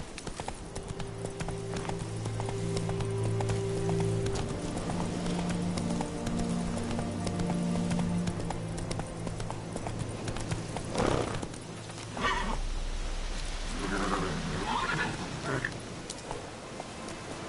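Horse hooves clip-clopping in a steady trotting rhythm while riding in the video game The Witcher 3, with a game music bed underneath and a brief burst of other game sounds near the end.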